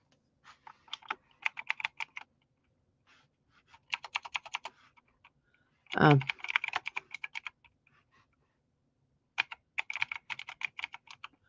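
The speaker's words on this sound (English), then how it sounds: "you can hear my typing much better, much louder." Bursts of rapid clicky typing on a mechanical computer keyboard, close and crisp, with pauses between runs and a brief spoken filler in the middle.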